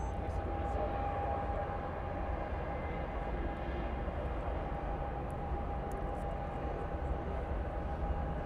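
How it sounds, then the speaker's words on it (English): Airliner engines at Cologne Bonn Airport rumble steadily as a plane comes in to land on the runway, a continuous loud low roar with a faint whine, heard from a distance across the airfield. "Coming in on the other runway."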